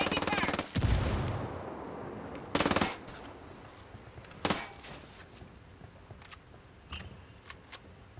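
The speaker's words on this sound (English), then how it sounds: "Shit, I'm pinned. Taking fire." Gunfire rips through a firefight in the shooter game Ghost Recon Wildlands, with loud bursts of automatic fire and single heavy shots spaced apart, alongside smaller clicks and distant reports.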